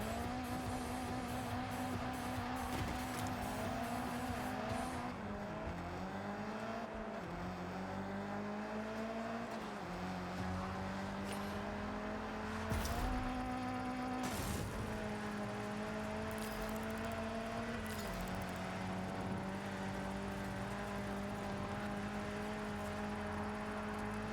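A car racing in the Forza Horizon video game, with a continuous loud engine roar whose pitch climbs and drops through gear shifts over about twenty-four seconds, plus occasional short bursts of tire or impact noise.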